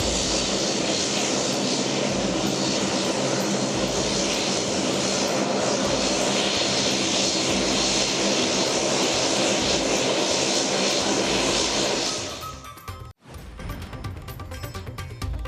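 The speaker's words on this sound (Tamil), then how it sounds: "தூத்துக்குடிக்கு வருகை தந்த முதல் விமானத்திற்கு தண்ணீரை பீச்சி அடித்து வரவேற்பு" A SpiceJet airliner arrives at Thoothukudi airport on its first flight and receives a water salute. A steady, loud engine roar runs for about twelve seconds, then drops away abruptly, leaving lighter rushing noise.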